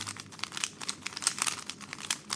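A magnetic 4x4 speed cube's layers are turned: quick, dry clicking and crinkly snapping in rapid bursts, close up and fairly quiet, with no talking.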